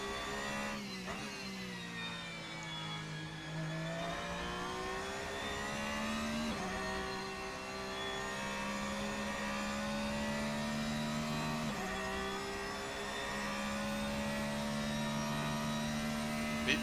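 Race car engine in the Assetto Corsa racing game rising and falling in pitch, a steady high-revving drone that climbs through gears with brief shifts, loud and continuous with no talk.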